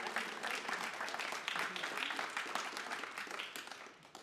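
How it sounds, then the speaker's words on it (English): Audience applause at a UX meetup in Antwerp, steady dense clapping from a room of people sustained for about four seconds, fading slightly at the end. "round of applause for Peter."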